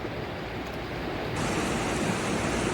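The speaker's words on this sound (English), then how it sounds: "I really loved the sound of the waterfall which was flowing down." Waterfall flowing down near a camp by Darawat Dam, a steady broadband rush of falling water that swells slightly louder halfway through, with no voices.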